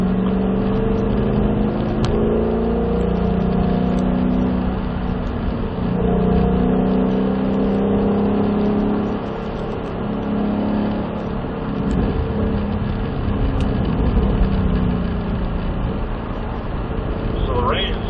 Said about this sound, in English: Steady throttle across the stripe, then accelerate